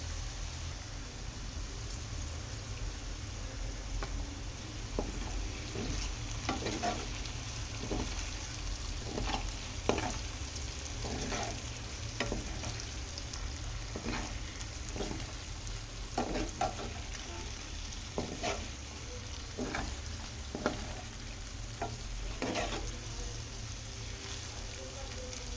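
Sliced okra fries in oil in a pan, a steady sizzle broken by repeated scraping stirs at an irregular rhythm, with a voice talking now and then over the cooking.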